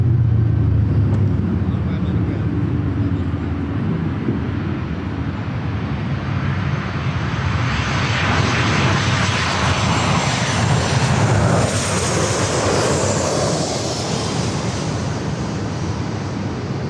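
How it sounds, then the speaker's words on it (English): A Delta Air Lines Boeing 757-300 jet at LAX roars loudly and steadily, its engine noise swelling and sweeping past, with faint radio chatter underneath. "Heading to Atlanta, Georgia, Delta Airlines flight 715, 757-300."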